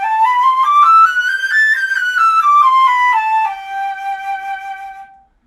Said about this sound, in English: the flute plays the highest notes